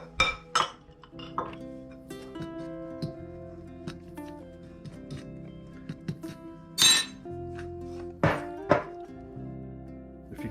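A utensil stirs apple pie ingredients in a bowl, giving repeated close clinks and dull knocks against the dish in an uneven rhythm, with no one talking.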